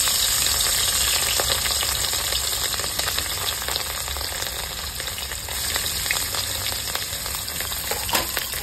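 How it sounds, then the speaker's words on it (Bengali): Rohu fish frying in hot oil, giving a loud, steady sizzle and crackle that runs unbroken throughout with no talking. "তেল গরম হয়ে গেছে, মাছটা দিয়ে দেবো।"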